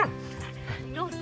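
Puppy on a permaculture farm barking and whimpering, a few short yips and whines up close while a person talks over it.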